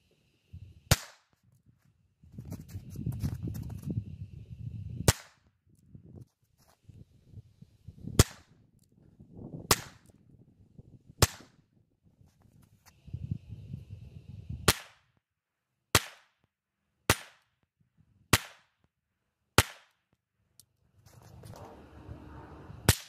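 A .22LR pistol fires over a chronograph, giving about ten sharp, close cracks spaced irregularly over several seconds, with low murmuring and handling noise in the gaps.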